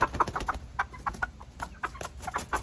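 A large light Brahma hen clucking in short repeated soft clucks at an uneven rhythm, close by, with no one talking.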